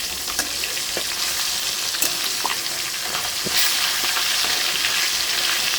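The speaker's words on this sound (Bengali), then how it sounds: "মাছগুলো উল্টো দিচ্ছে" Koi fish frying in mustard oil in a wok while being turned, a dense continuous sizzle with scattered spatula scrapes and pops, close and fairly loud with no voices.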